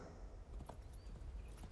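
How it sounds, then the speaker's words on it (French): Hooves of a horse clip-clop at a walk, a steady close rhythm of soft thuds over a low rumbling background, with no talk. "J'enfourche son cheval."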